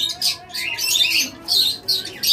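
A breeding pair of caged lovebirds, one red-eyed and one black-eyed, chirps in loud, close bursts of shrill, scratchy tweets that come in several quick clusters with brief gaps between them.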